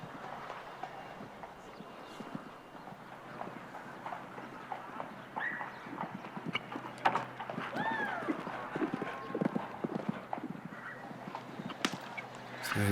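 Horse hooves pound in a steady galloping clip-clop during a show jumping round at a CSI4* Grand Prix in Andalucia, heard at moderate distance under ongoing arena commentary and crowd ambience.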